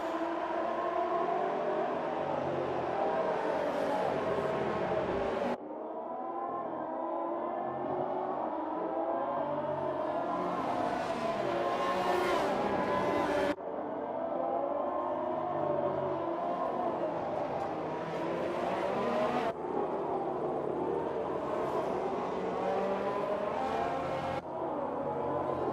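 A pack of Formula 1 race cars sets off on the formation lap at the Australian round of a racing video game. Engines whine and rev loudly in overlapping waves, with abrupt cuts between sections.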